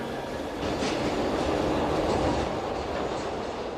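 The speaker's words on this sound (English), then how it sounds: "the train goes round and round" Loud, steady rumbling roar of a Glasgow Underground train running on rails, with a continuous rattling clatter throughout and no voices.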